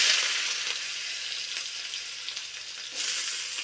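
Cumin seeds and dried chilies tempering in hot oil, a steady, bright, close sizzle that holds throughout and swells again near the end, with no voices.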